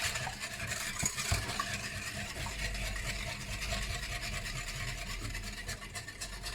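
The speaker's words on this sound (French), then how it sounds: "Et là, on va bien mélanger le tout." Sugar being stirred into a dessert cream mixture, a steady continuous scraping and rubbing of a utensil against the bowl, close and fairly loud, with no talking.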